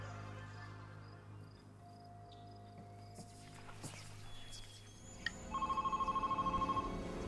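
A house telephone rings near the end, a steady pulsing electronic trill following a quiet stretch of room tone with faint scattered clicks and steps.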